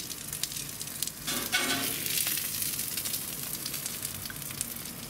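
A blue cheese burger topped with caramelised onions sizzling on a BBQ grill, giving a steady, fairly quiet crackling hiss that runs throughout with no voices.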